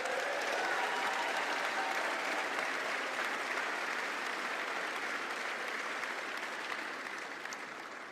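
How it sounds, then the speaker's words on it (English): A big round of applause from a Ukrainian-Canadian community audience at a public event, steady and sustained crowd clapping that runs for several seconds before gradually thinning out and fading. "we need to give them a big round of applause"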